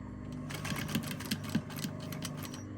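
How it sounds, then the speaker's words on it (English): A sewing machine stitches back and forth over a padded pelmet, giving a steady mechanical whirr with rhythmic clicking pulses. The sound is fairly quiet and continuous, with no voices. "I'm just going to start the machine and just do back and forward stitch"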